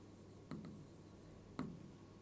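A pen scratches out a physics problem solution on paper, two short close strokes separated by about a second, quiet and isolated against a faint room hum.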